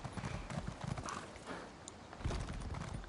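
A horse trots along in The Elder Scrolls Online, its hooves giving steady, fairly close clip-clops amid game ambience and the occasional snort.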